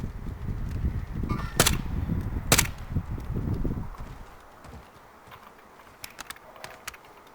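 Sniper gunfire in Call of Duty Warzone: two sharp loud shots crack over a dense rumbling game background, followed by quieter scattered distant pops as the ambience thins.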